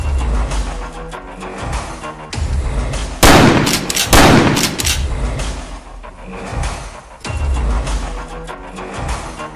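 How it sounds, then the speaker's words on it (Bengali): Two blank rounds fired from a gun in a forest, heavy loud blasts about a second apart, booming and echoing over a steady noisy background. "আগে দুটো ফাঁকা গুলি ছোড়ো তো।"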